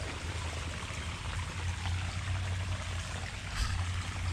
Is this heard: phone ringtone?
no